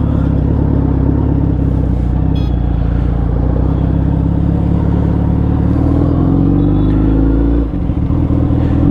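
A Suzuki Hayabusa motorcycle being ridden, its exhaust giving a steady loud rumble with engine note rising and shifting, mixed with wind and road noise throughout.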